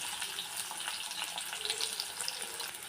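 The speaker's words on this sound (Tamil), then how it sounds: "ஒரு பெரிய வெங்காயத்தை இந்த மாதிரி வறுத்து போட்டுக்கோங்க" Sliced onion frying in a pan for a Tamil-style potato podimas, a steady bright crackling sizzle that fills the whole clip, with no voices.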